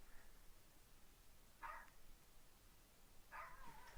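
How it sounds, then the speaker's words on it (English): A dog barks twice in the distance, faint short yelps spaced a couple of seconds apart over a steady background hiss, with no one talking. "So, lots of barking in the background."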